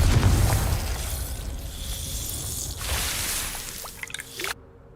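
A Confringo fire spell bursts in Hogwarts Legacy, a loud opening blast that fades into a crackling, rumbling tail with a few small pops and a short chime near the end, then quiet.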